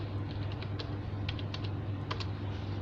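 Someone types data into an MS Excel spreadsheet on a computer keyboard, giving scattered light key clicks in quick irregular bursts over a constant low electrical hum, with no talk.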